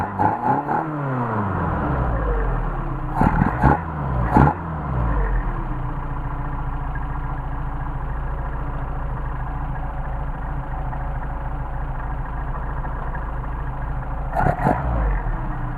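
A Mercedes 190SL with Solex carburetors idles steadily and close, with a few sharp throttle blips early on, a drooping rev and another pair of quick blips near the end.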